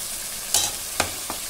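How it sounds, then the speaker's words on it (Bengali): Kochu (taro) greens frying in a pan make a steady hiss, broken by three distinct scraping stirs spaced apart, with no talking. "দু মিনিটের মতন হতে দেব, ভাজা ভাজা করে নেব।"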